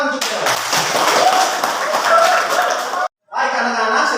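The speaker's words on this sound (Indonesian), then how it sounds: "Kita tepuk tangan juga." Children and a teacher clap together in a classroom after a scripture reading, a steady dense patter of many hands with some chuckling and voices mixed in, ending in a sudden brief stop before noise resumes.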